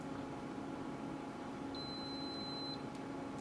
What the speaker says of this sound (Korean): 이렇게 삐 소리가 나고 파일이 저장이 되었습니다